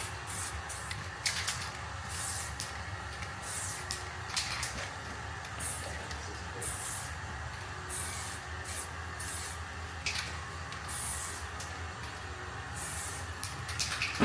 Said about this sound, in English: if you've got enough aerosol left, come back over and just thicken up any that you want to thicken up